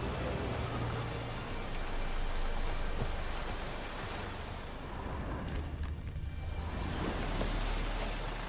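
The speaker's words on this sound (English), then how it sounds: "Raining again." Steady rain falls in the Witcher 3 game world, a dense continuous hiss of drops on surfaces with faint low rumbles underneath and no voices.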